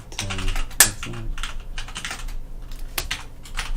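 Rapid clicking of computer keyboard keys, a close, steady clatter of keystrokes with brief pauses and one sharper tap near the start, with no voices.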